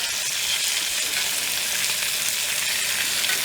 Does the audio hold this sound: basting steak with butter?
yes